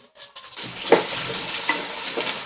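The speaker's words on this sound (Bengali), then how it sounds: "পেঁয়াজগুলোকে হালকা করে একটু ভেজে নিব" Chopped onions go into hot oil already fragrant with cardamom, cloves and bay leaves, bursting into a steady broadband sizzle after a quiet start, with a few clinks of a stirring spoon; no one talks.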